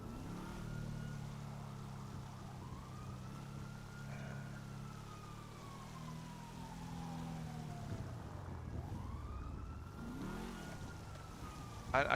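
Police sirens wail steadily in the Grand Theft Auto video game, rising and falling over a low engine rumble, loud and continuous throughout with no voice over them.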